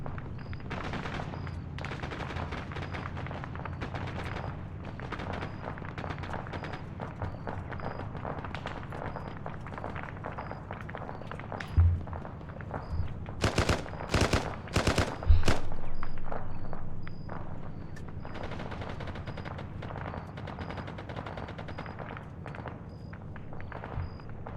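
Gunfire in a military video game, ArmA or GHPC: a steady run of distant shots continues throughout, and a cluster of louder, close bursts comes near the middle before the sound settles back to sporadic fire.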